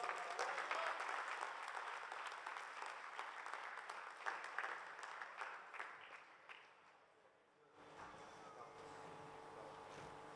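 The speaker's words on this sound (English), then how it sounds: "let's give her a round of applause" Steady applause from an audience at a Model United Nations opening ceremony fills the room, clapping loudly at first and then tapering off into quieter room noise.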